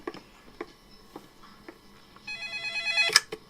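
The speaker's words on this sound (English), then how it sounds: "And the phone rings as if on cue." A telephone rings with a trilling electronic bell, building over the last second and a half above faint ticking and small background knocks, fairly quiet and alone.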